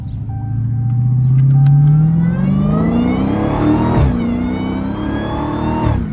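Dodge Hellcat with a stock exhaust, engine revving up in a long rising roar, then dropping into rumbling burbles with a couple of sharp pops, close and loud with no talking.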